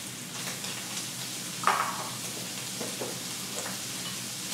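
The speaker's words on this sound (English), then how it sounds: "I'm going to go ahead and throw some onions in there. A little bit of celery." Onions and celery frying with bacon in a pan make a soft, steady sizzle with a few brief stirring scrapes. No one talks over it.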